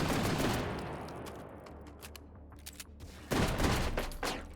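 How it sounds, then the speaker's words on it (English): Shotgun blasts in the VR video game H3VR, two loud close booming shots with a quieter stretch between, each followed by a short decaying rumble. "Suddenly shotgun."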